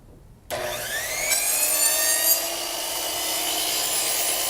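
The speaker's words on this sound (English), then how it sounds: "Lower that blade, butt the board up against the blade." A double-bevel sliding compound miter saw's carbide-toothed blade bites into a wooden board and cuts through it in one sustained, loud, even whine, close by with no talking.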